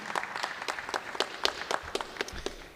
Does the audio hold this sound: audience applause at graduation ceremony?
yes